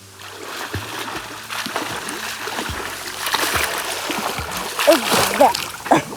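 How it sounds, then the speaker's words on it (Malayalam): Water splashing and spilling into a swimming pool at a five-star resort in Wayanad, a steady wash of splatter with people talking over it nearby. "ഇതാണ് നമ്മുടെ പൂളൊന്നും രസമല്ലേ അവിടെ നിന്ന് ഇങ്ങനെ വെള്ളം ഇങ്ങനെ ചാടുന്നത് കാണാൻ"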